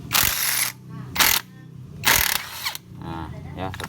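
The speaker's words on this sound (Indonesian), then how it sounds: "Bongkar dulu yang baut ini" A wrench loosens a bolt on a Jupiter MX motorcycle, giving close, loud bursts of metallic ratcheting and scraping separated by short pauses, with faint background noise.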